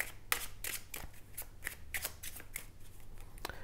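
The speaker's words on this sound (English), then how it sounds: "So the spectator can shuffle the pack and examine it." Rapid riffling bursts of a card deck being shuffled, crisp and close, repeating in quick succession with no talking.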